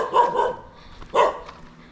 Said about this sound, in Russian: Ну чего ты лаешь,